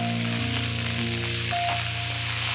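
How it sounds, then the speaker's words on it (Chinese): French beans dry-frying in a wok after the aromatics have been fried, giving a loud, continuous sizzle close up with a steady hiss and a low hum underneath. "慢慢煸炒"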